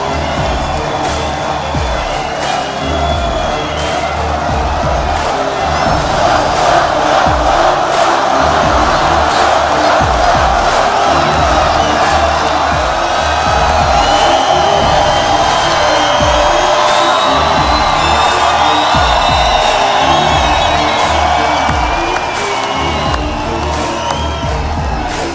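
A packed rally crowd cheers and roars continuously, loud and dense, with whoops and shouts rising throughout.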